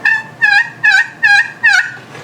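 Five evenly spaced yelps from a friction turkey call, clear and close, each a short rasping two-note cluck in a steady rhythm.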